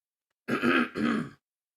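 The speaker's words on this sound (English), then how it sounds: "I just got to clear my throat a couple of times." Two forceful throat clears in quick succession, close and loud, with a brief pause between them and silence around.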